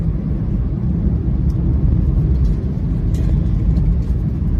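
Dense Delhi highway traffic roars in a constant, loud rumble of engines and tyres, with no breaks and no voices.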